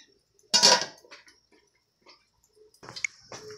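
A metal lid clanks down onto a pot of chicken tinola with vegetables with one sharp clatter, followed by a few faint clinks and near silence.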